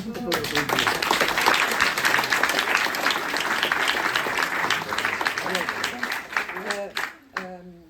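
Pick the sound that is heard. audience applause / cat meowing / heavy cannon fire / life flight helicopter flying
audience applause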